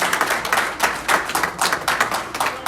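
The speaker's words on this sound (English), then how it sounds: "Can we give Amy a round of applause for passing out wristbands?" A live audience in Boston applauds a woman, with rhythmic rounds of clapping rising and falling steadily throughout and no voices over it.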